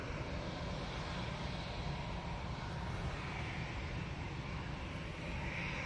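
EasyJet airliner at Manchester Airport, a steady broad engine roar at moderate distance, constant throughout without voices.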